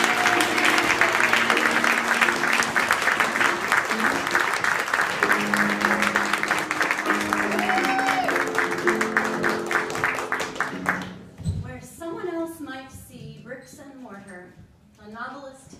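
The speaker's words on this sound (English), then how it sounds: "Please put your hands together for Ms." Sustained audience applause fills a 2016 GANYC Apple Awards ceremony hall, steady and loud for about eleven seconds before thinning into scattered claps as a voice begins speaking.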